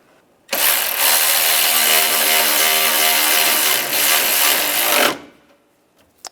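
A power driver tightens a screw while an A/C discharge hose is refitted on a 2014-2019 Toyota Corolla. It gives one steady, loud whirring burst of about four and a half seconds, then stops.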